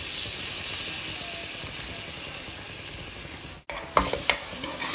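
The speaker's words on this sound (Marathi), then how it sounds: "बटरमध्ये मैद्याला थोडंसं परतून घेऊ आपण" Flour sizzles steadily in melted butter in a hot pan as it is sautéed for white sauce, a close, even hiss broken near the end by a brief gap and a few stirring knocks.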